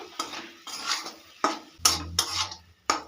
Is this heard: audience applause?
no